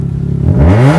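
A car engine in the Farming Simulator 19 video game revs hard with a roaring exhaust, rising quickly in pitch from a low rumble to a loud, sustained howl over about a second.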